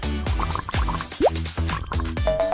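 Water poured into small plastic bags for a craft project, a quick series of short splashy pours and plops close by, with no speech.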